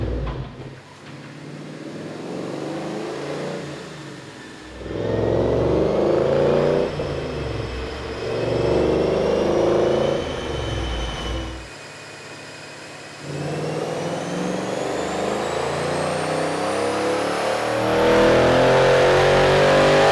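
A 2013 Ford Mustang GT with a lightly modified Gen 1 Coyote V8 revs hard on a chassis dyno. It makes loud, close pulls with rising engine pitch, broken by short dips between bursts and ending in a long sustained climb.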